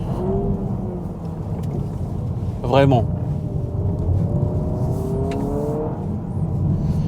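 A Honda Prelude hybrid driven on a racing circuit hums with a steady engine drone from inside the cabin, rising in pitch as it accelerates, while a person speaks briefly over it.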